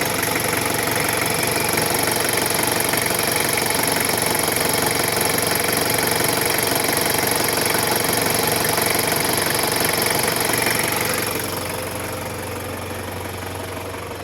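A rebuilt Toyota 1KZ diesel engine runs steadily after an overhaul, a loud, continuous mechanical clatter with an even idle hum that drops slightly in level near the end.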